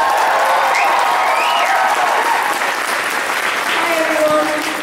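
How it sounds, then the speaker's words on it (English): Audience applause fills an opening ceremony at the Kitacon 2012 convention, a steady dense wash of clapping that holds for the whole stretch, with a few voices and cheers mixed in. "Another round of applause, please."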